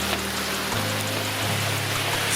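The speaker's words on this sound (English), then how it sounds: "This is the second wave of rain." Steady, dense rain pouring down in the 7th Ward of New Orleans during a flood, a constant hiss of drops on surfaces with a low rumble underneath and no voices.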